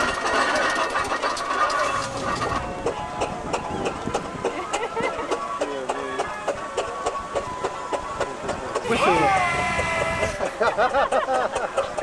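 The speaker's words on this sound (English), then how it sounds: "bring the blowing engine into the arena shortly for a little demonstration" A stationary blowing engine runs at a show arena in England, giving a steady, loud mechanical chugging with regular beats throughout, alongside background noise and a brief swell of higher-pitched sound near the end.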